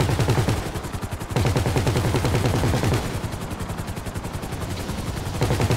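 Rapid sustained gunfire from a minigun in the video game GTA V, a loud continuous buzzing rattle of shots that briefly pauses and resumes, with dense low rumble throughout.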